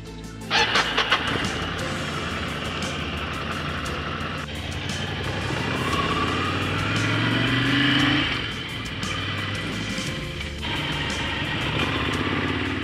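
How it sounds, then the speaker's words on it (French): A very muddy motorcycle rides a mountain road in the Southern Alps, its engine buzzing continuously up close with rising and falling revs and gear changes, wind noise throughout. "Finalement, la moto roule."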